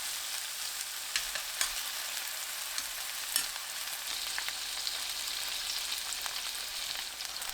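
Pork belly sizzles steadily in a hot pan over medium heat, a dense broadband crackle with occasional sharper pops and faint stirring, close and continuous with no talk.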